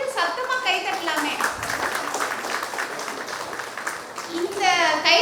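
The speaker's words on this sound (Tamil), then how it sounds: "கொஞ்சம் சத்தமாக கைத்தட்டலாமே." Students at a college conference hall clapping louder on request, a sustained wash of applause from a large crowd with a speaker's amplified voice over it at the start and end.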